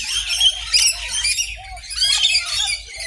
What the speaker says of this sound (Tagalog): Birds of paradise.